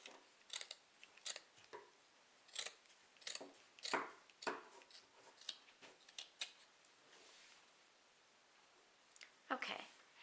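Scissors trimming crochet yarn for a wreath embellishment, a series of small, close snips and clicks in an irregular rhythm, fairly quiet with short pauses between cuts.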